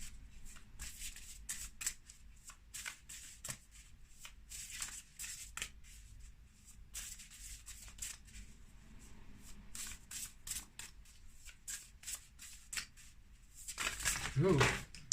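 Tarot cards are shuffled by hand in a long run of crisp, rapid riffling and flicking bursts, close and fairly soft, with a voice speaking briefly near the end.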